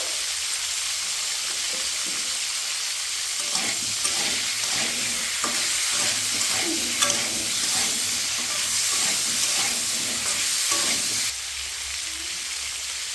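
Cauliflower pieces fry in a pan with a steady broadband sizzle and hiss, broken by scraping stirs through the middle stretch, before the frying settles back to a quieter even crackle near the end.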